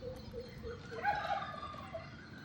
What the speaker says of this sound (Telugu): కోడి ఉంది, మేము కోడి ఒకటి మేపుతున్నాం.